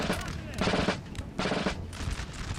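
Infantry lines in Napoleon Total War, Ottoman forces among them, fire musket volleys that come as dense rolling bursts of overlapping shots, swelling and fading in waves from mid-distance, with a voice talking over them.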